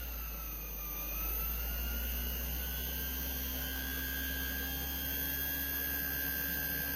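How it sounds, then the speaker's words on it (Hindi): DC inverter air conditioner outdoor unit compressor running, with a steady low hum and rising whining tones as it spins up to full speed, continuous and close. "ये कंप्रेसर ऑन हो गया इसका जी"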